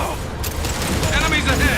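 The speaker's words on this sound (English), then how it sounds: "I need cover. Taking heavy fire." Heavy gunfire in a space shooter game, a dense continuous barrage with muffled booms sustained throughout at a steady, fairly loud level.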